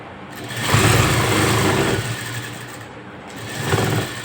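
A sewing machine runs with a steady, whirring mechanical drone that surges louder twice, close by and with no talking.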